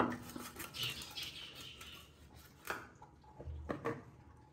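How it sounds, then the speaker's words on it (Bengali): A hilsa fish is cut on a hard surface, giving quiet scraping, knocking and rubbing sounds in short irregular bursts, faint and close, with no talking. "ইলিশ মাছটা প্রথমে কেটে নিই"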